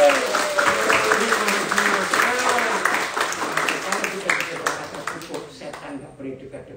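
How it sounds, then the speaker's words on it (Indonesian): A church congregation claps together in a sustained, fairly loud burst of applause that gradually thins out, with a voice speaking over it. "tepuk tangan buat diri sendiri"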